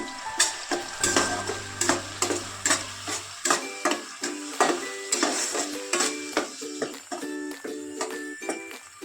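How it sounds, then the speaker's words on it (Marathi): Coriander and turmeric powder masala with onion and tomato being sautéed for stuffed brinjal, a steady sizzle under a regular rhythm of spatula taps and scrapes against the pan, close and fairly loud. "त्याच्यात थोडी टाकते धना पावडर हळद पावडर आता हे आपल्याला चांगलं परतून घ्यायचं आहे"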